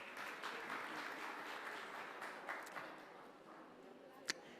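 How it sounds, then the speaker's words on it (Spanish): Audience at a journalists' day event in the Dominican Republic claps in a steady dense wash for several seconds, easing slightly near the end, with faint voices mixed in. "Un aplauso también para ustedes, ¿por qué no?"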